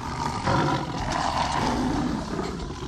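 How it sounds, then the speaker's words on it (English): A tiger escaped from its cage at an event lets out a loud, sustained roar that fills the whole moment, harsh and close with no clear pauses. "You gotta shoot the tiger!"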